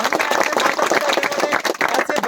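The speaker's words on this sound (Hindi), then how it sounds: "तो ऐसे माता पिता के लिए एक बार जोरदार ताली हो जाए।" Audience applause for parents at a rural Indian welcome gathering for an army soldier, brief close and uneven clapping with a busy, crowded texture.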